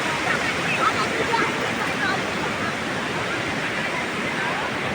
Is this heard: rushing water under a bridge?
yes